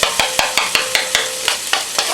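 Shredded beef seasoned with garlic and crushed pepper sears in lard in a pan, a steady loud sizzle broken by regular sharp clacks of stirring roughly every quarter second, with no talking.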